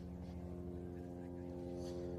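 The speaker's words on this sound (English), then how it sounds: "our friend up in the loud airplane is continuing to circle overhead." A loud propeller airplane towing a glider while circling above a youth baseball game, a steady droning hum that holds level and continuous throughout.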